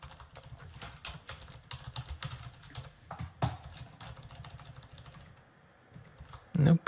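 Computer keyboard keys pressed in an irregular run of light clicks and taps, fairly quiet and close, with a couple of sharper strikes midway and a pause near the end.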